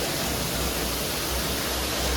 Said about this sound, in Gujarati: વરસાદ કેવો આવે?